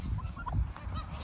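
Geese honking in a village yard, several nasal honks in quick succession, fairly close, over low outdoor rumble.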